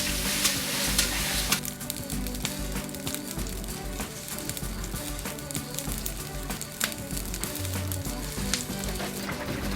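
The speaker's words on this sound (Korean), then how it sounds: "찹쌀이 퍼지기 시작하면 바닥에 눕지 않도록 주걱으로 저어가며 죽을 완성시킨다" Glutinous rice porridge being stirred with a wooden paddle in a large iron cauldron, a steady bubbling simmer broken by scraping and sloshing strokes, close and fairly quiet, with no voices.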